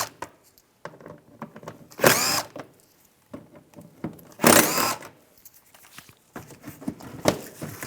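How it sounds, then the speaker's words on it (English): Power driver with a T20 socket removes bumper screws on a 2008-2017 Buick Enclave, two short whirring bursts close by amid clinks, handling knocks and rustling. "Take these screws out, use a T20 socket."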